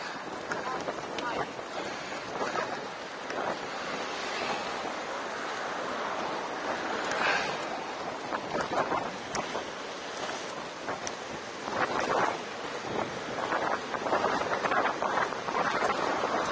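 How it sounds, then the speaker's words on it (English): Strong wind buffeting the microphone in rough gusts, with a person talking beneath the roar. "It's very windy this way, isn't it?"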